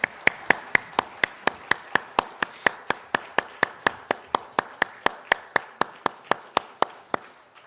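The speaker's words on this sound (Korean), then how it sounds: "하나님께 영광의 박수 올려드리겠습니다" A church congregation at a Sunday service claps in unison: crisp, evenly spaced claps at a steady, quick rhythm, roughly three per second, continuing without pause and without talking.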